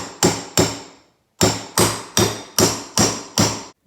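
Hammer blows driving an old wheel bearing out of a hub on an Arctic Cat 400 ATV. Loud, sharp metallic strikes, close up, land in a steady rhythm of about eight hits with one short pause. No one speaks.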